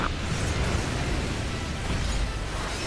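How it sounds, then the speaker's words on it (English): Requiem cannon blast in Earth Defense Force 5, a heavy roaring explosion with deep rumble and broad noisy wash, sustained and loud without talk. "Requiem cannon, fire!"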